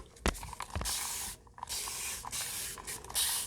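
Short hissing spray bursts of water misted onto inked paper, several broadband puffs of varied length, close and fairly quiet, with brief pauses between them.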